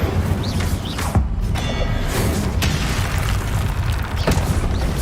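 Spell effects burst and boom in Hogwarts Legacy, a dense, loud run of magical blasts and pops with whooshing sweeps layered close together and no pause.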